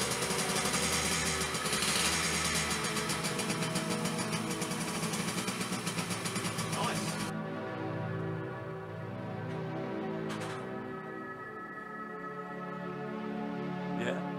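Kawasaki KH100 motorcycle engine running nearby, a buzzing steady drone that drops to a lower, quieter idle partway through, with faint voices in the background.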